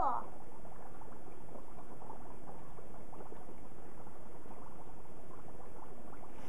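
Dry ice bubbles in soapy water, a continuous churning, gurgling fizz at moderate loudness that runs steadily throughout, with voices talking faintly alongside.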